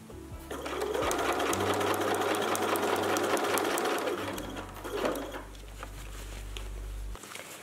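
Sewing machine stitching parka fabric: a fast, even run of close needle clatter for roughly four seconds, then a quieter motor hum with a few faint taps as the fabric is fed along.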